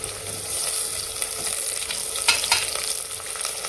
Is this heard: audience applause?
no